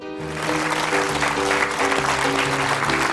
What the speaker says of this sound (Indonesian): Kita boleh berikan tepuk tangan sekali lagi